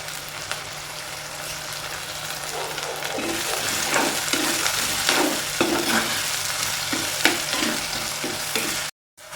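Onions, green chillies and curry leaves fry in a pan for ginger theeyal, a constant close sizzle with rhythmic scraping stirring strokes running through it and no talking.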